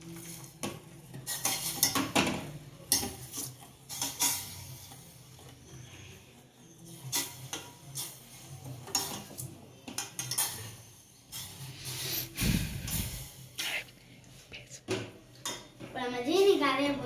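Spoon stirring sugar in a pan while making paal bun, a steady run of metallic scraping and clinking against the pan, close and moderately loud, with occasional utensil knocks.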